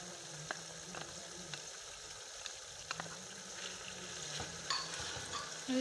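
Chicken, ginger, tomatoes and green chilies frying and being stirred in a pan for a chicken mattar pulao, a steady soft sizzle with scattered scraping clicks of a spoon, no talking.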